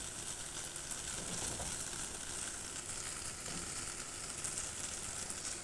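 Small fish frying in a pan with eggplant, potato and tomato, a steady faint sizzle and crackle that continues throughout, with no talking.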